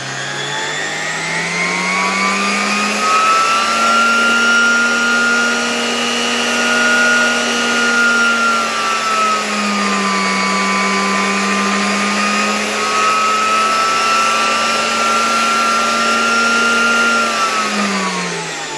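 A Zelmer vacuum cleaner motor runs continuously and loudly up close, a steady high whine whose pitch sags and recovers slightly several times over the length.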